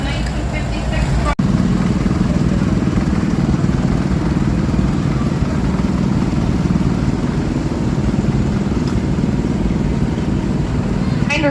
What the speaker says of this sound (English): Our next tractor is owned by Myron Olson of Milltown, Wisconsin.